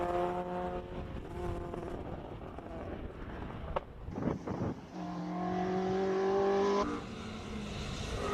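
A little 2-liter normally aspirated four-cylinder Pinto Ford Escort race car at a Cape Town hill climb pulls away from the start line, engine revving in clear rising and falling pitches through gear changes, close and loud, with a brief clatter midway.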